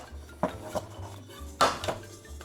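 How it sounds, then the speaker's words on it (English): Metal cake pans handled while turning out cakes, a few sharp clanks and knocks against a hard surface, close and distinct, with quiet gaps between them. "Now it's just a matter of turning the cakes out, and they should pop right out because of the parchment."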